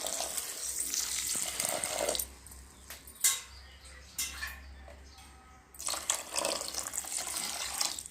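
Soaked dosa grains washed under running water, with tap flow and sloshing that pause and return, sometimes brief clinks in between.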